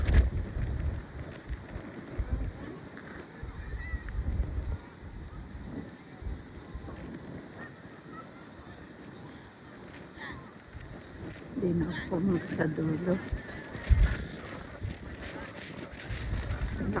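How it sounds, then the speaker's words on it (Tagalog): Strong wind buffets the microphone in a park with cherry blossoms, a continuous rough rushing that swells and gusts, with people talking over it. "Ang lakas ang hangin."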